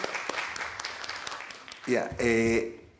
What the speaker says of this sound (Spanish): Primero un aplauso de bienvenida pues, a nuestro amigo, el doctor Chuez.